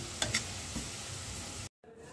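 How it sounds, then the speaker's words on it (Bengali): Onions frying until golden brown make a soft, steady sizzle with a few light stirring clicks near the start, then the sound cuts off abruptly just before the end. "পেঁয়াজ বেরেস্তার কালার চলে এসেছে, তো বেশি আর ভাজা যাবে না"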